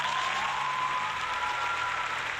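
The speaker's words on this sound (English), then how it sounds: "Thank you for the amazing applause" An audience claps together at the start of a talk show, a dense, even wash of applause that stays steady and fairly loud without voices.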